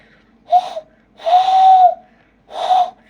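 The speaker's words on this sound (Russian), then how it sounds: "Вот так свистеть, а руками вот так." Three breathy hand whistles blown through cupped hands sound one after another, the middle one held longest, close and fairly loud with airy hiss around each tone and quiet between them.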